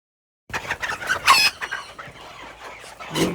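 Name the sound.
Old English Game Bantam chickens clucking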